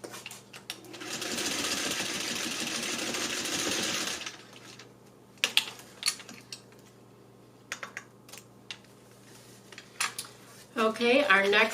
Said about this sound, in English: So we're going to start by sewing our handles.